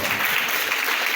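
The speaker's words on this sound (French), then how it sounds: "Faites l'applaudir très très très fort." Audience applauding at a club event, a dense, steady wash of clapping that fills the short moment without pause.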